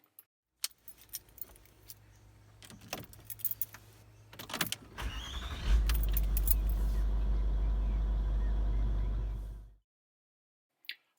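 A Range Rover L322 engine cranks after a jangle of keys, then catches and settles into a loud, steady idle for several seconds before cutting off abruptly near the end.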